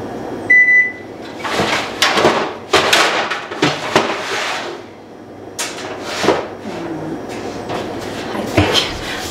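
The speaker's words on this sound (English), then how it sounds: "Let me get my pan out." A pan pulled from a kitchen cupboard with loud, close knocks, rattles and door thumps, followed by clattering metal cookware in irregular bursts.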